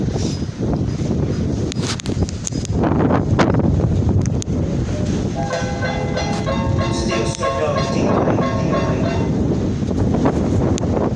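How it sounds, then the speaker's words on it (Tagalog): Strong wind buffeting the microphone in a loud, constant roar, with rumbling and faint tonal whines underneath throughout. "lakas ng hangin"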